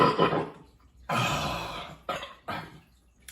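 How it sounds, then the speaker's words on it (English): A man lets out a few deep, rough burps after drinking an IPA beer, one long belch followed by shorter bursts, close and loud with pauses between. "That's a good IPA burp."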